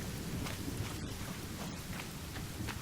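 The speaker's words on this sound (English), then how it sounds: "Oh, jeez, it's raining." Steady rain falls in the survival video game The Forest, a continuous close wash of drops with faint low rumbles underneath, no voices over it.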